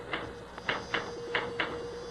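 A handful of crisp mechanical typewriter key strikes, five or six in uneven succession, sound close by over a steady faint hum, in a 1975 radio drama.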